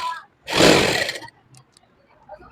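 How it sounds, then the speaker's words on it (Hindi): A sewing machine runs one short burst of under a second while stitching a center seam on a lined suit, close and fairly loud, then falls away to quiet handling noise. "हम इसे बीच की सिलाई लगा लेंगे इस तरह से"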